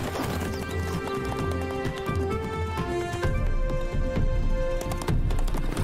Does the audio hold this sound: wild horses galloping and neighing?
yes